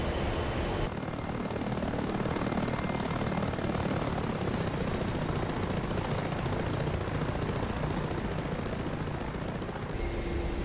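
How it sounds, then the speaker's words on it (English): Helicopter coming in to land in the flight game DCS A-10C II, a steady, loud rotor thrum and turbine whine that carries on unbroken, with no speech. "Chopper's going in for an landing though."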